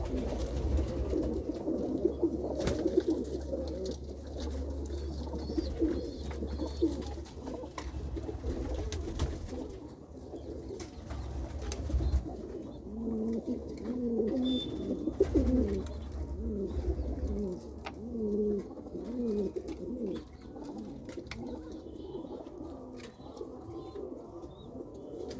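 Pigeons in a loft where birds have just laid eggs coo continuously, overlapping low throaty calls close by, with low rumbling handling noise and occasional clicks and wing flutters.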